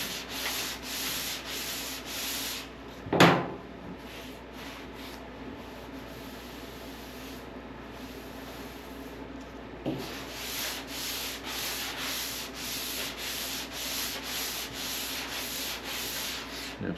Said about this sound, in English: I'm just going to do a couple of swipes here, wipe off my sandpaper